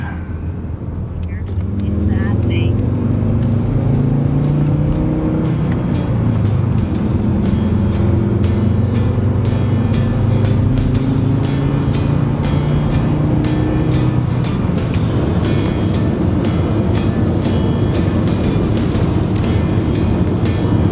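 A Volvo 850 being driven on the road after a restoration, its engine and road noise holding a steady, loud, continuous rumble from the cabin for the whole stretch, with a brief quieter moment at the start.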